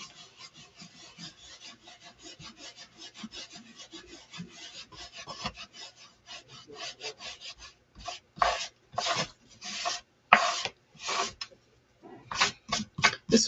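Paper is rubbed off a Mod Podge image transfer by hand, a soft rhythmic scratching that starts faint and rapid, then grows into louder, slower strokes with short pauses between them.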